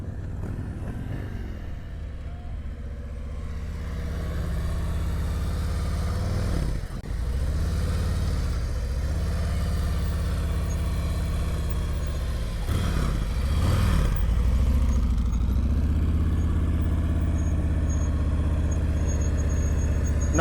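A motorcycle rumbles at low speed during slow-speed riding practice, giving a few quick throttle blips that briefly raise the engine note over a steady, moderately close idle.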